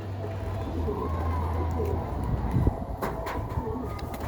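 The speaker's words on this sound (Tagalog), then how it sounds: "Yung pampitong ibon natin" A homing pigeon coos on a rooftop outdoors, soft notes over steady ambient noise with a low hum, moderately distant.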